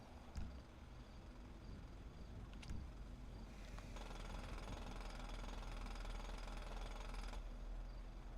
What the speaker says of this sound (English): And a mining drill.